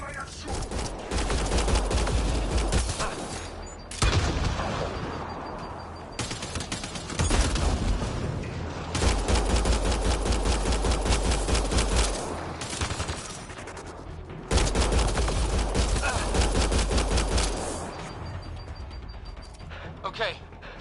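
Sustained automatic gunfire fills a firefight in the video game Mass Effect Andromeda. Long loud bursts are broken by brief pauses, and voices speak intermittently under the shooting.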